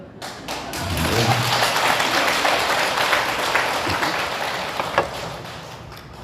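An audience at a Buddhist dharma talk gives a thin round of applause: a dense, moderately loud patter of clapping with a few dull thumps, fading near the end.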